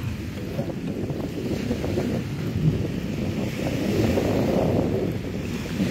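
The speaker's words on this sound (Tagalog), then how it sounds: "napaka lakas ng hangin ngayon" Strong wind blowing steadily at Dolomite Beach on Manila Bay, a broad rushing roar that swells toward the end, mixed with a low rumble like distant surf.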